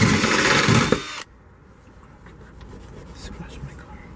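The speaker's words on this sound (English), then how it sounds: "now with the hole drilled to the correct size" A power drill bores a hole into a car trunk for backup camera wiring, a loud buzzing whine lasting about a second that stops abruptly, followed by quiet handling noises and faint murmured talk.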